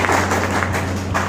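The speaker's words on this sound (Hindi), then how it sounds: "तालियां आप सबके लिए" Applause from the crowd at a Unicity business meeting in Rajgarh Biaora, a dense, even wash of clapping throughout, with a low hum underneath.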